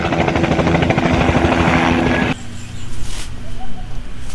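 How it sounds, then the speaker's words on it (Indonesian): A police patrol helicopter flies past with loud, steady rotor and engine noise for over two seconds, then fades abruptly to a fainter, thinner drone with some higher tones. "Wow, ini helikopter patroli polisi"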